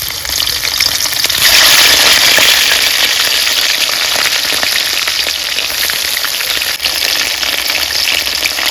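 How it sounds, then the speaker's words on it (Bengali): Continuous, loud close-up sizzling of whole spices, bay leaves and a large cardamom frying in hot oil in a pot as chicken meat goes in for a Bengali-style chicken stew, with no talking. "এখন আমি মাংসটা দিয়ে দিব।"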